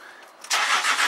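A 2007 Land Rover LR3 Discovery with a low battery and partly disassembled parts cranks and fires up: a quiet hiss gives way to a sudden loud, steady engine roar that settles into a rough, wavering run.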